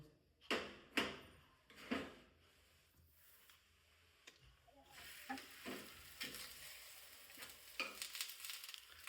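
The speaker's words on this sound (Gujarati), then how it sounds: "હવે આપણે તવી પર એડ કરીશું પહેલાં તેલ એડ કરી દઈશું" A paratha fries in oil on a flat tawa griddle, giving a soft sizzle broken by several sharp bursts of spattering and scraping, quiet and close with no speech.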